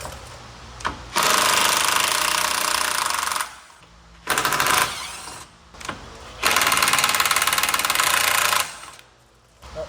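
Pneumatic tool loosening the 10mm bolts on the bottom shield of a 2015-2021 Subaru WRX with the FA20 engine, heard as three long loud rattling runs broken by short pauses and clicks.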